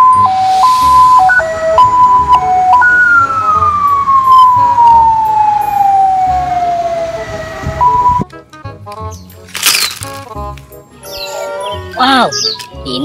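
A toy ambulance siren wails, first a two-tone pattern, then a long falling tone, followed by faint jingly toy sounds.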